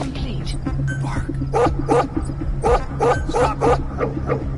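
A dog in the Metal Gear Solid V video game gives a quick series of sharp, yipping barks in a steady rhythm over a low humming game backdrop, fairly close and loud.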